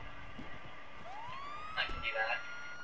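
A police car siren in a video game sweeps upward and then wails faintly in the background while people talk over it.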